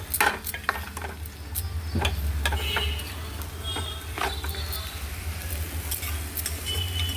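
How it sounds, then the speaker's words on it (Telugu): Tomato and ponnaganti greens curry being stirred and cooked in a pan, with a continuous soft sizzle and several sharp spoon clinks and scrapes, close by and without speech. "ఇప్పుడు కలిపి ఉడికిస్తున్నాను."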